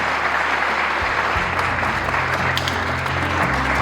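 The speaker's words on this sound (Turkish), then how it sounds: "alkışlarla başlar mıyız?" Steady applause from an audience opens a memorial gathering with a conference and Sufi music recital, a dense continuous wash of clapping throughout, with a low hum underneath.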